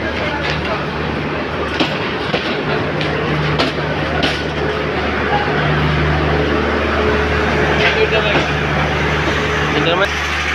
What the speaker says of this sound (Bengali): আমরা এখন ট্রেনের মধ্যে ট্রেন আইসা